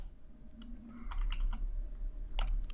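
Several quick keystrokes on a computer keyboard, clustered in short bursts, close and fairly quiet over a low room hum while someone enters code.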